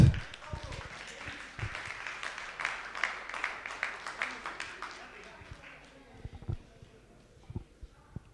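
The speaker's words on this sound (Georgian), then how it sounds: "გავაცილოთ აპლოდისმენტებით" Dense, steady applause from an audience at a bare-knuckle fighters' ceremonial weigh-in, filling most of the stretch before thinning out into a few scattered claps near the end.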